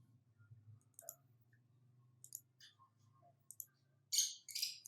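Several sharp computer mouse clicks ring out one at a time at irregular intervals, with a couple of faint, close clicks in the middle and a louder cluster near the end, set against a quiet low hum with no talking.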